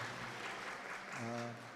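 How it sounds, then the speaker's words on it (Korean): A group gives a brief round of applause for participants who finished their practice, a short burst of clapping with a voice starting up near the end. "박수 한번 합시다"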